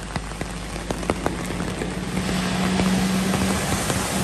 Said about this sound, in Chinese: 每当豪雨、台风期间，就会看到台九线上过往的车辆溅起的浪花